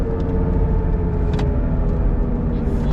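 A Chevrolet Cobalt SS engine runs with a rough, steady low rumble and a constant tone, heard close and continuous with faint background noise.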